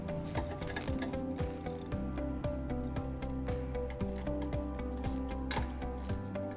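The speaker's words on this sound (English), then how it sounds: "And then we'll tighten them using a 10 millimeter socket." A 10 mm socket ratchet tightens nuts on a trailer wiring harness bracket for a 2012 Honda CR-V, giving steady, close mechanical clicking and ratcheting throughout with dense metallic texture and no voices.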